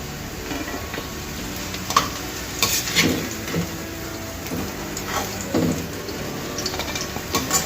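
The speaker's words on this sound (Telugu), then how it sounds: "ఇలా ఒక 10 నిమిషాల వరకు వీటిని వేయించుకోవాలండి" Bitter gourd and onion slices fry in a pan of oil with a steady low sizzle, broken by several scraping stirs and light clinks of a spatula against the pan.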